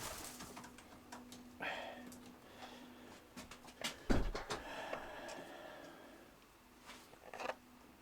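Pigeons coo softly in short bursts while being fed, with wing flutters and scattered clattering nearby, no one speaking.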